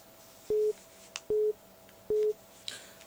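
Telephone busy tone after a radio phone-in caller drops, three evenly spaced short beeps, clear and steady over faint line noise.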